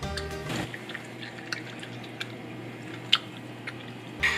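Close, quiet chewing of Japanese Hi-Chew gummy candy: sparse sticky, wet smacks and clicks spread over a few seconds, with no talking.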